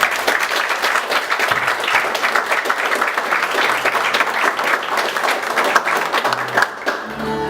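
Dense applause fills the space at a church worship gathering, many hands clapping steadily and loudly in a continuous wash without pause.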